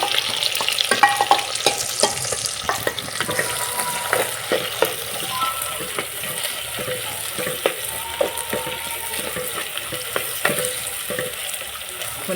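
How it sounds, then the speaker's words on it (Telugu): Onions and green chillies fry and sizzle in a pan with cumin and red chillies, stirred with repeated scraping strokes over a steady crackling sizzle, close up with no talking. "ఇక ఉల్లిపాయలు పచ్చిమిరపకాయలు వేసుకుంటున్నాం"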